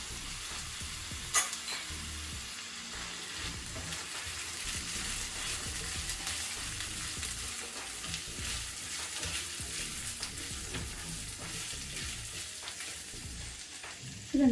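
Peas, carrot, potato and beans fry in a pan with a constant loud sizzle and repeated scraping stirs throughout, nearby and without speech.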